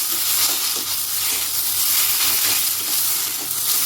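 Chopped tomato is stirred and fried in a pan with spices, a steady close hiss of sizzling and steam that stays loud and even throughout.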